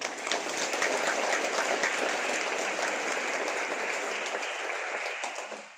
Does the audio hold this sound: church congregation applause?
yes